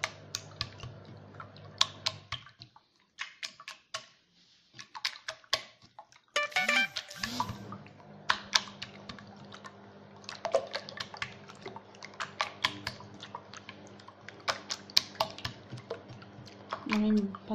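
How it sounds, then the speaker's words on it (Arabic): Eggs whisked by hand in a bowl for a Moroccan shortbread-style sweet, giving rapid clicking and tapping strokes in bursts with brief pauses, close and fairly quiet, with clatter and kitchen handling throughout. "غنبدا بهاد البيض غنحركو بحال هكا"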